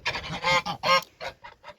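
Several geese honk close by in a rapid series of loud, nasal calls, tapering into a few fainter honks.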